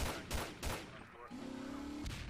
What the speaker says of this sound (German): Ja, wir schießen random auf Leute,